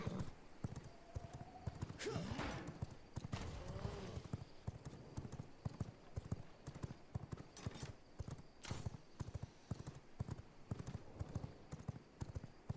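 Hooves of a horse in a video game clip-clop in a steady, even rhythm, fairly quiet and continuous, with a brief whinny near the start.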